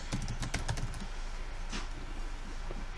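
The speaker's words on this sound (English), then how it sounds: "go to the text box here on the left and type in each label I want to write" Computer keyboard keys tapped to type label text for vinyl labels made with a Cricut machine. A quick run of close, crisp clicks comes in the first second, followed by sparser, softer keystrokes over a low background hum.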